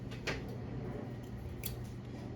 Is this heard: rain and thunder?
no